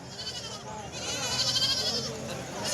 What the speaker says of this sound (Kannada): ನಿಮ್ಗೆ ಸಾಕುವಂಥ ಮರಿಗಳು ನಿಮ್ಗೆ ಕೇಳೋಂಥ ನಾಟಿ ಮರಿಗಳು